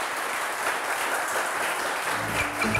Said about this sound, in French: On applaudit pour mes candidats.